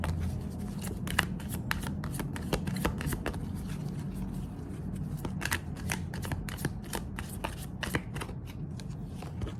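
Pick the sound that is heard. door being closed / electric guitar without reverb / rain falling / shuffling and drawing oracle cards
shuffling and drawing oracle cards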